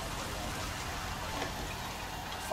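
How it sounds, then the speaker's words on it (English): Rain falls in the video game L.A. Noire, a steady, even hiss of drops with no talk over it. "It's barely been raining. Like, this is the first time we've seen it rain."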